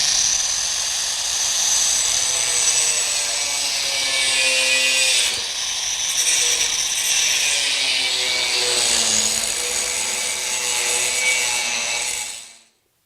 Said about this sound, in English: So we're just going to use a cut-off saw, and then we're going to cut this at an angle.